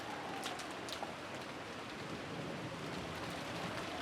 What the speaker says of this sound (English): I love the rain effect on the backgrounds.